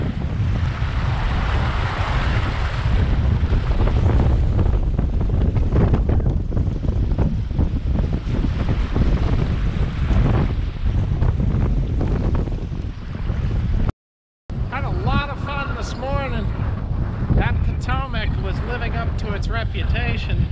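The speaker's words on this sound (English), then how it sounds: "we started off with winds gusting low 30s, kind of 20 knots" Strong wind gusting in the low 30s of knots roars and buffets the microphone over churning, whitecapped river water, with a brief dropout midway; a voice seems to speak faintly beneath the gusts toward the end.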